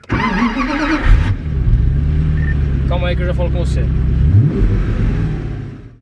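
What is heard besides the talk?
Pagani Zonda R supercar engine revving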